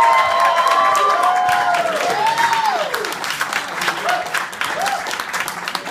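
A beatbox battle crowd at a championship final bursts into loud, sustained applause and cheering after a round, with whoops and shouts riding over steady clapping that eases slightly but keeps going to the end.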